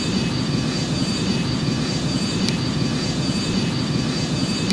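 Steady, loud airliner engine drone from the Airline Commander flight game, a dense constant roar with low rumble that holds evenly throughout without any voices.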